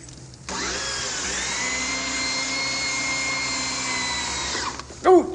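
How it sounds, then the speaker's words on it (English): A drill bores steadily through metal in an old-time radio drama, a loud continuous whining grind that holds for about four seconds before cutting off abruptly, with a short clatter at the end. "just pray this drill doesn't break"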